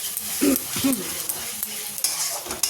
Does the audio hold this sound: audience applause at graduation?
no